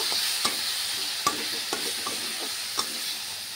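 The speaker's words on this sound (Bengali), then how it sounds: "এবার এতে আমি মাছগুলো ছেড়ে দেব আর একটু ভালো করে কষিয়ে নেব" Tengra fish fries in a pan with salt, turmeric and dried red chillies, giving a steady close sizzle broken by a few distinct knocks and scrapes of a spatula stirring.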